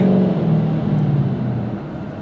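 A 1000 HP Mustang with a manual transmission, engine droning loud and close with a steady tonal whine, the pitch gradually falling.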